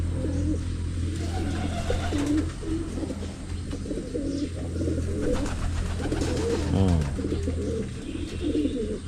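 Domestic racing pigeons coo in a low, steady murmur close by, with a brief flutter of wings, while someone talks over the birds throughout.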